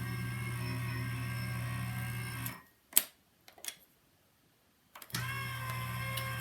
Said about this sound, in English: Okay, run it through the machine.